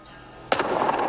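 A single close, sharp shotgun blast of buckshot striking a bulletproof face mask outdoors, a sudden crack followed by a brief ringing decay.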